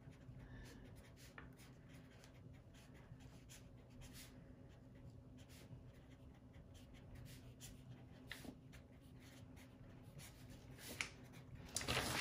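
A wave equation written out by hand, a steady, quiet scratch of pen or pencil on paper with short strokes and small pauses, close and faint, ending with a slightly louder rustle.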